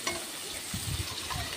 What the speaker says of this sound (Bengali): এপিট ওপিট নাড়াচাড়া করে ভেজে নেব।